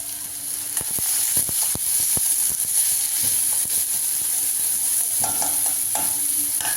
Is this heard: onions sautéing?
yes